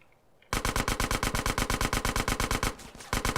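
Rapid automatic gunfire in GTA San Andreas, a loud sustained burst of evenly spaced shots that begins abruptly after a brief quiet moment, pauses briefly near the end and then resumes.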